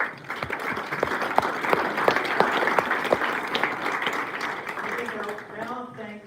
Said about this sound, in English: I ask that you give them a round of applause right now